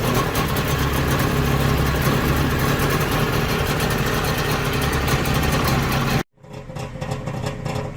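A Trabant 601 two-stroke engine runs after a rebuild, idling with a rough, buzzing, uneven throb close by, then cuts out abruptly before restarting more quietly.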